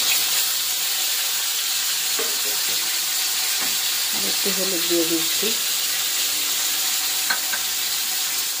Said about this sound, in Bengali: চলো টমেটোটা একটু ভাজা করে নিয়ে ভালো করে কষিয়ে